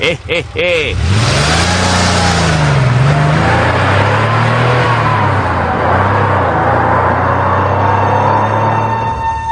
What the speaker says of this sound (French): Et la voiture de Domingo Mba, l'assassin, s'éloigne.